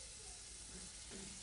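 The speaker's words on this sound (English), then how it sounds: "That's a sizzle you want to hear." Steady broadband hiss of meat searing in hot oil, a constant crackling sizzle with faint low murmurs beneath.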